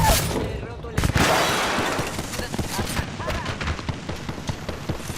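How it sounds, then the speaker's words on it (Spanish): An enemy shield shatters in a video game shooter with a loud crack and brittle breaking burst, followed by a dense flurry of rapid gunfire clatter, with a voice talking over the action. "He roto el escudo."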